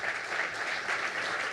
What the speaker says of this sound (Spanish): José Sáez, gerente general de Aguas Andinas, para quien pido un aplauso.